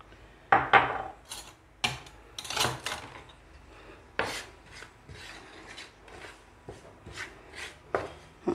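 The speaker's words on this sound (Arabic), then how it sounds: "اقلبه كده مع بعضه الرده مع الدقيق مع الدقيق" Dry flour and bran being turned and mixed together by hand in a bowl as a coating for spiced liver, giving irregular soft scraping, rubbing and rustling strokes with a few sharper knocks, close and fairly quiet with no talk.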